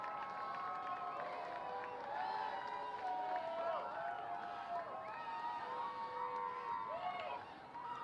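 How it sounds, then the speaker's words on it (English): A crowd at an Akron RubberDucks minor league baseball game against the Reading Fightin Phils, distant and fairly faint, with a steady murmur, shouts and whoops rising and falling throughout. "The crowd's still very invested in this game."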